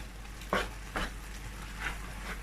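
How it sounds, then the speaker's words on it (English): Jollof rice being stirred in a cooking pot, with a few distinct scraping strokes of the spoon over a steady low sizzle, close and alone. "I'm just going to give it a little bit stir, and I'll continue cooking"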